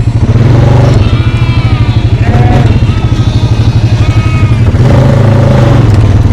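A four-wheeler ATV engine runs loud and close with a rough, pulsing putter that rises and falls as it moves, steady throughout while herding livestock on a farm.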